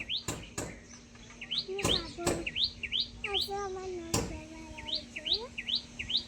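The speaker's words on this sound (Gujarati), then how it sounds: "આ બે બે કાબરો આવી તમારી પાસે" Two mynas chirp repeatedly at close range in quick, rising whistled calls, broken up by a few sharp knocks and clatters nearby.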